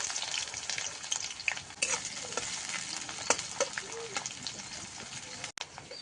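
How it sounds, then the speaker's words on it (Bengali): Onions with dried red chillies fry in mustard oil in a wok, giving a constant bright sizzle broken by scraping stirring strokes, close by and moderately loud. "পেঁয়াজটা লাল লাল ভাজা হয়ে গেছে"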